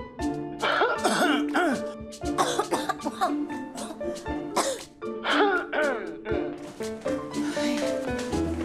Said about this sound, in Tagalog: Nagsasagutan yung ubo nila.